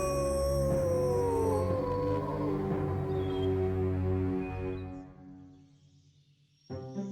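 A cartoon big bad wolf lets out a long, loud night howl that holds steady and then slowly fades away, ending in near silence before a brief noise at the very end.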